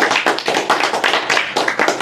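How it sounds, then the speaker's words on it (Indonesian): A live audience claps in several quick, loud bursts of rhythmic applause at a talk, close and distinct with brief gaps between rounds. "Tepuk tangan dong."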